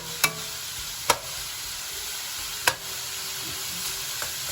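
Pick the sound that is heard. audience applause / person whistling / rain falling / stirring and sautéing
stirring and sautéing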